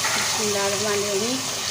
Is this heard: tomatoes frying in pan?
yes